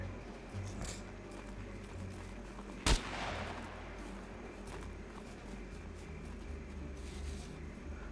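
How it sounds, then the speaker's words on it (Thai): A single sharp gunshot in the survival game SCUM cracks out once, fairly distant, over a low steady background rumble. "มีการยิงกัน"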